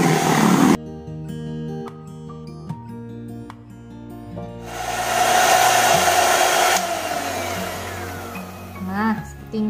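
An electric mixer whips cake batter for a layered Surabaya sponge, giving a loud steady motorized whir that varies in pitch as the speed changes, with a voice heard near the end.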